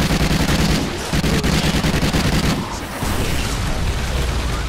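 Sentry guns in Call of Duty Extinction pour out loud, continuous automatic gunfire, a dense rattling barrage with heavy booms layered through it, nearly unbroken for several seconds.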